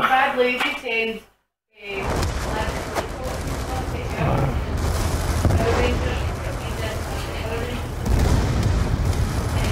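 Gunfire from a weapon in a PC story-mode video game, heard as dense, continuous bursts of shots and impacts that follow a short silent gap, with a voice talking over the shooting.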